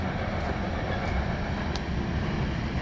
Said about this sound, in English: And there's a train going by.